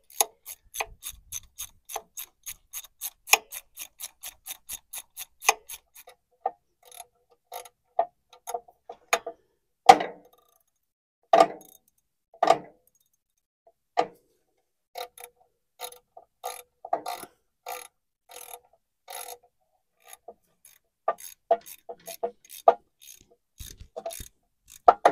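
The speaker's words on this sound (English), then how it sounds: "We'll go ahead and tighten these bolts down." Ratchet clicking as bolts are tightened on the front cover plate of a 1943 Farmall H tractor: rapid even bursts of close metallic ticks, then slower separate clicks and pauses, in a quiet shop.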